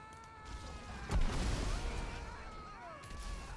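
A sudden booming crack of lightning in GTA 5 bursts out, followed by a rumbling, crackling decay, with game-like tones and music lingering underneath.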